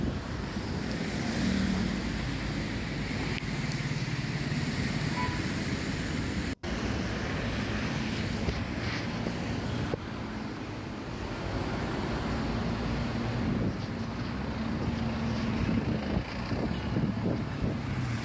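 Sea waves wash continuously at the Alexandria seaside on a wintry day, with strong wind roaring and buffeting the microphone. The surf and gusts stay loud and close throughout, with no voices.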